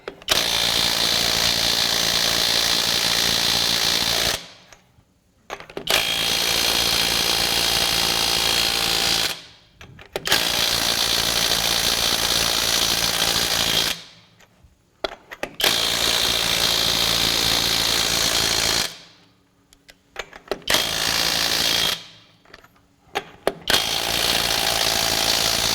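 A $100 Amazon impact wrench set to power level 4 hammers loudly and steadily in several long bursts of rapid rattling, each lasting a few seconds, with short silent breaks between them.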